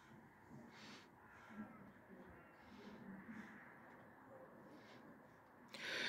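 A crow caws several times from overhead outdoors at a Easter-bonfire evening, faint and distant calls spread across the stretch amid low background rumble.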